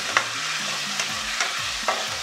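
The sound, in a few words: stirring onion, red and green peppers with vinegar in a pan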